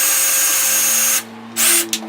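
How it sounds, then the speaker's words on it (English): A power drill with a small 3/32 bit bores shallow pilot holes into a piece of wood. It gives a loud, steady whine up close, cuts off briefly, then revs again in short bursts. "I'm just going to take this and drill a couple of little pilot holes."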